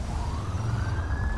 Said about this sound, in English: Hearing sirens responding already